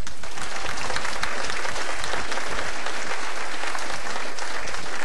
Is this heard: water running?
no